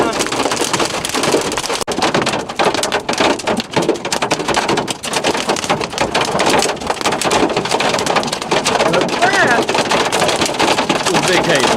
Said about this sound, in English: That was big hail.